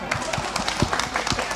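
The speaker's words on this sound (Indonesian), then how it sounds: "Bapak Ibu tepuk tangan dong biar saya semangat." An audience at an InaRISK disaster-awareness gathering claps in a quick, uneven patter of many hands, close and steady for a brief stretch, with no voices over it.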